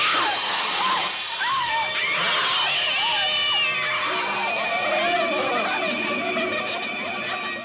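Several cats yowl and screech over one another in a loud, continuous chorus of wavering, rising and falling cries with some clattering.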